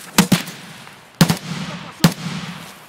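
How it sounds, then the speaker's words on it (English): A grenade goes off in a tactical shooter game, heard as three sharp booming blasts spaced about a second apart, each followed by a short rumbling tail, fairly close. "The nade just blew up kind of close."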